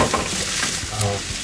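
Carrots tipped into a hot frying pan with vegetables, a close, loud sizzle and crackle with the scrape of stirring, steady throughout the short burst.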